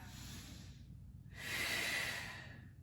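During a yoga flow, a close, fairly quiet breath cycle is heard: a long airy exhale, a short pause, then a stronger, louder breath through the nose that slowly fades.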